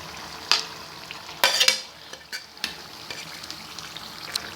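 Brinjal frying in a pan with softened tomatoes and green chillies sizzles steadily for eggplant bharta, broken by several sharp scraping stirs of a spoon against the pan, with no voices.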